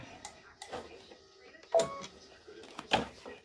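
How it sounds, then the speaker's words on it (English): An embroidery machine stitches a snowflake design with rhythmic mechanical ticking and clattering, with several sharper needle clacks standing out over a quiet whirring hum. "right now it's going to stitch the snowflake"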